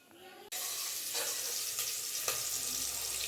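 Ginger garlic paste and onion hit a hot pan with a sudden loud sizzle, settling into a steady crackling fry with a few brief stirring scrapes, as the masala base for a potato and green pea kurma curry.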